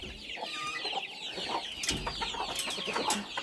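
Hens cluck repeatedly in a farmyard, a broody bantam mother among them with her chicks, the calls close and overlapping with occasional sharper squawks.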